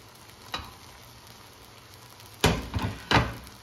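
Steak frying in a pan as onion is tipped in, giving a faint steady sizzle with a soft early clatter, then several louder bursts of hissing and clatter near the end.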